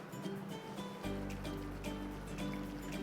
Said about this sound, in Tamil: இந்த ஸ்டேஜில் நம்ம எடுத்து வச்சுருக்கிற புளி தண்ணி அதை இப்போ ஆட் பண்ணுவோம்.